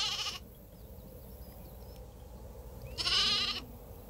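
A sheep bleats twice in a rural Sardinian setting, once briefly at the start and again more loudly a few seconds later, over a steady low background rumble.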